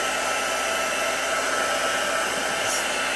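A heat embossing tool blows a steady, loud, close rushing hiss while heating embossing powder on black cardstock, constant throughout with no voices.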